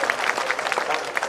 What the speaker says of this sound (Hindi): लगा दो इस याद पर ताली